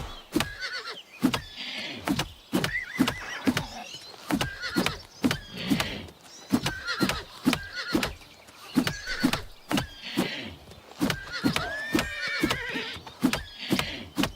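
A horse in the video game Oblivion Remastered whinnies repeatedly amid sharp, regular hoof clip-clops, moderately loud and close, with no speech.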